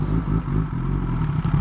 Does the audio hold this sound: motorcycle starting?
yes